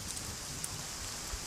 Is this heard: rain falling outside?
yes